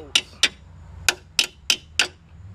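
A hammer strikes bolts on a Chevy Equinox six times in an uneven rhythm, each a sharp metallic knock standing alone over faint background hum.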